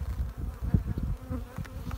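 Honeybees swarming over a capped brood frame lifted from a hive, giving a close, steady buzzing hum with small flickers of wingbeats.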